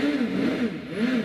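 Race car accelerating up the Shelsley Walsh hill climb course in the rain, a loud, close engine note rising and dipping in pitch over a short pass.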